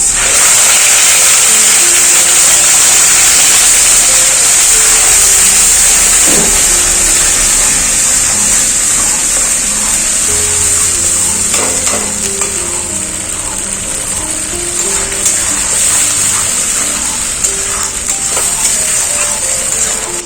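Onion and tomato paste fries in spiced oil with cumin and a little sugar, giving a steady loud sizzle for the whole stretch, with occasional clinks of a utensil and no talk.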